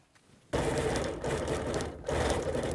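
A sewing machine quilting letters on a small quilt top starts abruptly after a brief quiet moment, then whirs in two close, loud bursts with a short dip between them.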